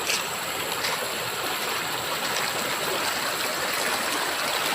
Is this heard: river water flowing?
yes